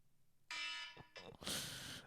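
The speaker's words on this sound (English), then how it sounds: "That was just the timer." A kitchen-style timer alarm goes off in a harsh buzzing burst, breaking off briefly and restarting, fairly close and alone without talk.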